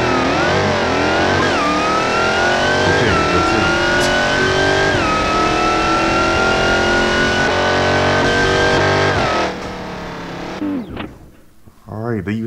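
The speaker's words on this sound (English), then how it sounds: "So the Hellcat Charger is a beast in drag racing" Tuned Dodge Hellcat Charger drag racing in BeamNG, its engine screaming loud and close through repeated rising revs and gear shifts for about nine seconds before the roar cuts off abruptly, leaving faint chatter.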